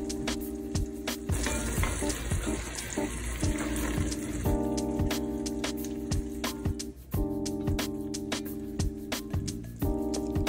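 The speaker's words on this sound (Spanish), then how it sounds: "Me encanta el sonido que hace mientras se cocina a fuego lento." Fish stew of salt cod simmering over low heat in a pan, a steady soft sizzle and bubbling running throughout beneath background music.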